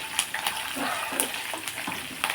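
Green chillies fry in hot oil in a pan while lemon pulihora is being made, giving a steady crackling sizzle with a few louder stirring scrapes, close and alone with no talk.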